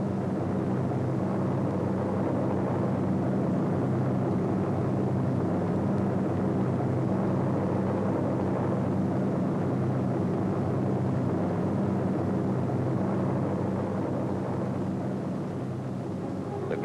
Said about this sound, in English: The gliders cut loose from their tow planes.